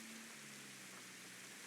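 Steady, even hiss of heavy rain in GTA V Online, a continuous wash of falling water with a faint low hum underneath and no voices.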